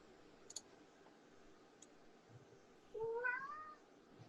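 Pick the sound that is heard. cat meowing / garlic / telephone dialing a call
cat meowing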